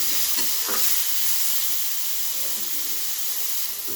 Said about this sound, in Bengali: কুমড়োটা আমার খুব ভালোভাবে ভাজা হয়ে গেছে। এখন আমি একে একে মশলাগুলো দেবো।